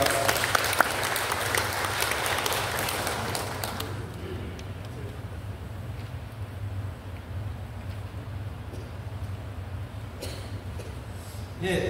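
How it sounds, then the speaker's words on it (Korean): Audience at a Korean housing redevelopment briefing clapping warmly, a dense burst for about four seconds that thins to scattered, fainter claps and room noise. "박수로 부탁드리겠습니다"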